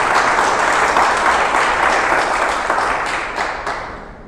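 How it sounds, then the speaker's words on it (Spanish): Sustained applause from a church congregation during a Sunday service, a dense wash of clapping that stays loud throughout and tapers slightly near the end. "Démosle un aplauso al Señor en esta mañana"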